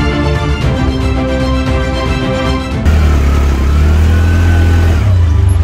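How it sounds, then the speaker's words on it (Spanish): A small motorcycle rides a dirt road toward Nogalpampa, Pichari, its mid-pitched engine droning loud and steady, with the note shifting partway through as the rider changes gear or throttle; no voices are heard. "Hemos venido con la motito"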